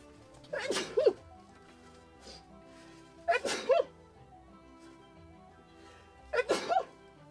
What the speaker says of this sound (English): I will sneeze, I'm sorry.